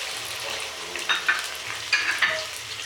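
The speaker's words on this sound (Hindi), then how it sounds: "ऑयल गर्म हो गया, अब हम इसमें प्याज डाल देते हैं और प्याज के साथ ही हम लाल टमाटर भी शामिल कर देंगे" Onions and tomatoes fry in hot oil with a soft, constant sizzle, broken by a few louder stirring scrapes near the mic.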